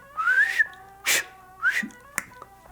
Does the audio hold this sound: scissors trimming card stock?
no